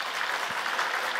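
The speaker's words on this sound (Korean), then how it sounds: "인사로 들어가실 때 박수로 한번 격려해 주시기 바랍니다" A Korean church congregation at a Sunday morning service gives a short burst of applause, a dense, steady patter of many hands heard briefly with no one speaking.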